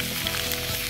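Chicken wings searing in oil in a hot pan give a loud, dense close sizzle that holds steady for a moment before a sharp spatter at the end.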